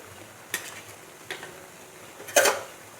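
A utensil stirs bottle gourd greens in a cooking pot, making three sharp scraping clinks spaced about a second apart against a quiet background, the last one the loudest.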